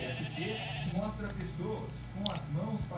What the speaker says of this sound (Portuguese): vou ter que matar a ovelha, que ela também dá carne nessa versão que eu tenho